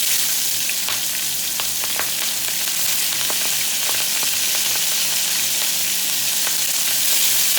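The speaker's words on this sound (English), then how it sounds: "Just give that good saute. Kind of wake up all those flavors." Chili and scallions sautéing in hot oil, a loud, dense, continuous sizzle with a few light clicks of stirring, close up.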